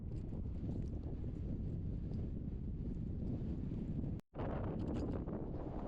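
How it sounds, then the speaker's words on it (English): Steady wind buffeting the microphone on a frozen lake during ice fishing, a dense low roar with a brief dropout near the end and no talking. "at least the rain stopped, but it is windy."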